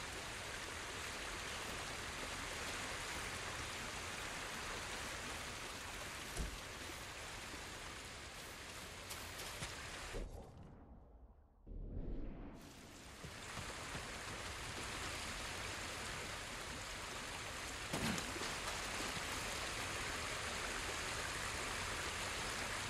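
Steady waterfall flowing in Ghost of Tsushima, a continuous broadband rush of falling water that briefly drops away near the middle before resuming, with no voices.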